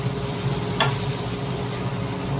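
Onions fry soft in a pan for home fries, making a steady, moderate sizzle with a brief scrape partway through.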